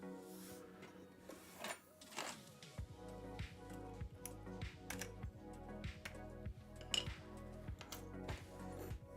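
Typing on a Yunzi AL71 custom mechanical keyboard fitted with GMK keycaps: fast, even runs of close keystroke clacks, preceded by a few scattered clicks and rustles.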